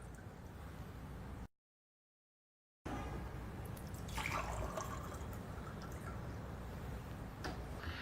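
Water poured out of two glasses, a faint watery splashing and trickling after a brief dropout, with a louder burst of liquid sounds midway and scattered drips.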